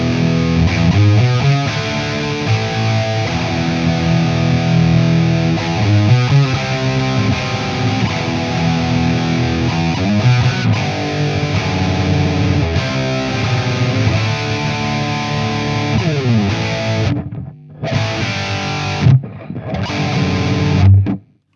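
Heavily distorted electric guitar played through a Mesa Boogie Dual Rectifier Revision F amplifier with high gain, chugging riffs and sustained chords, loud and continuous, with brief cut-offs near the end.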